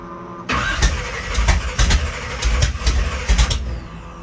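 A 496 engine cranks with a rapid uneven chugging rhythm and catches, sounding loud and close in short repeated bursts after a brief quiet start.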